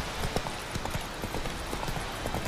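Horse hooves clip-clopping at a steady trotting rhythm in the video game The Witcher 3: Wild Hunt, even and continuous, with a faint background hiss.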